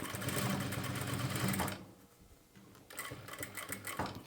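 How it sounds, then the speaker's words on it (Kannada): A sewing machine runs close by as it stitches piping onto blouse cloth, a steady mechanical whirr that stops briefly near the middle before starting up again. "ತುಂಬ ನಿಧಾನವಾಗಿ ಸ್ಟಿಚ್ ಮಾಡಿ"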